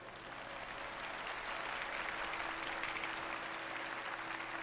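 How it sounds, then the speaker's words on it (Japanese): An audience at Final Fantasy XIV Tokyo FanFest 2024 applauds, steady dense clapping from a large crowd heard at a distance under a faint hum, sustained evenly throughout. "ぜひ拍手をお願いします。"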